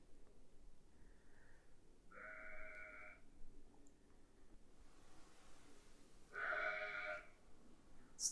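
A goat bleats twice at a distance, each call a wavering nasal cry about a second long, separated by quiet outdoor background.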